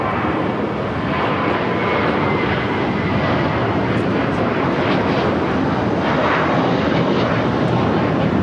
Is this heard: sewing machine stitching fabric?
no